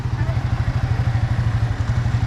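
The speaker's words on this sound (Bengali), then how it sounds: "ছবি তোলার মাঝে হঠাৎ করে খালামণির ফ্রেন্ড বলে আমার বাইকটা নাকি চালাবে" A motorcycle engine thumps in a fast, even, loud low pulse close by as the bike is started and ridden, with no other sounds breaking through.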